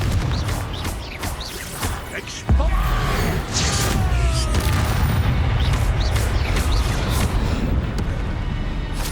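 In the Hogwarts Legacy video game, a Confringo fire-blast spell explodes with a sudden loud boom, followed by dense, continuous battle noise and voices.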